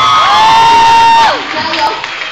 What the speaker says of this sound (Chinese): 我们给他一个掌声好不好？